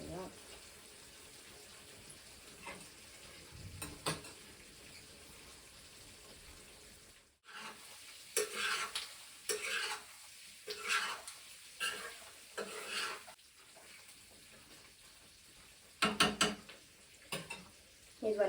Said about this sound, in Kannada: ಈಗ ಇದನ್ನ ಕ್ಲೀನಾಗಿ ಮಿಕ್ಸ್ ಮಾಡಬೇಕು.